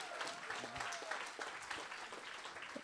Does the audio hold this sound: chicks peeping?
no